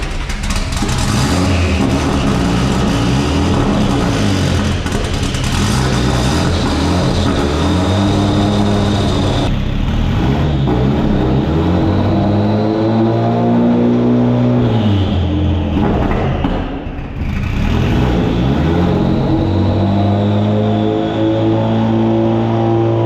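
A Nissan S13 with a custom-swapped gearbox runs up through its gears while raised on a hoist, engine droning and climbing in pitch with each shift, loud and close, with no talking.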